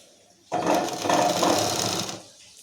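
A sewing machine stitches fabric in one quick close burst of about a second and a half, a dense rapid whir that starts abruptly and stops, with quiet before and after.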